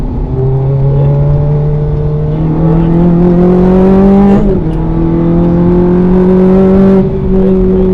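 Car engine revving and accelerating through the gears on the Mondello race circuit, a loud close-up drone rising steadily in pitch, with a brief shift near the middle and continuous road and wind roar beneath.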